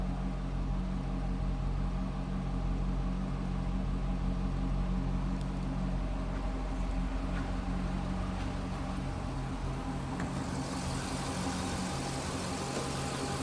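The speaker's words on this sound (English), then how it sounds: "Sounds like stock exhaust, nothing crazy over the top." A 2006 Chevrolet Corvette coupe with stock exhaust idles close by, a steady low rumble with a smooth, even drone throughout. A faint hiss rises near the end.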